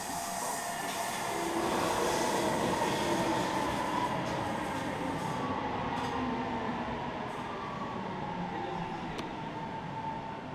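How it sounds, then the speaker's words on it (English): An eastbound OC Transpo O-Train to Blair arriving at a station platform, a loud sustained rumble of rail cars and wheels rolling in and easing down, with faint squeals near the end. "Eastbound train to Blair is arriving."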